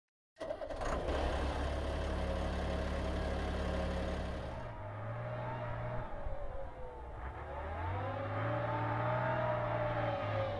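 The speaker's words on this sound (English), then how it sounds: "Let's take a listen to the engine so you know when it's on the battlefield." A British military vehicle's engine idles and revs in the video game Squad, a loud steady rumble with deep low tones that rise and fall as the motor pulls, heard alone without talk.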